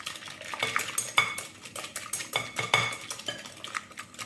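A whisk clatters quickly and steadily against a bowl while a sugar mixture is beaten for butter-free shortbread, producing a dense run of close, bright metallic scrapes and taps with no voices.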